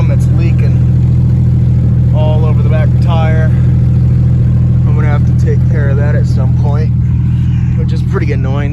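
A loud, steady, deep engine rumble from the unmuffled exhaust of a Jeep Wrangler YJ with its muffler deleted drones throughout while someone talks over it.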